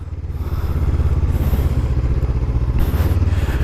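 Honda CB500F motorcycle running slowly through tight circles, a loud, close, steady low engine throb with a brief hiss in places and no talking.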